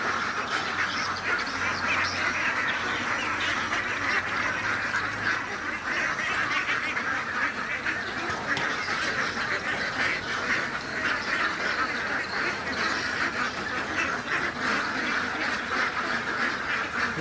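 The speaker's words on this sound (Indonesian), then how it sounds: "Ini bebek daging namanya ya." A pen of meat ducks quacks continuously in a village setting, a dense, loud chorus of overlapping quacks and honks with no pauses and no talking over it.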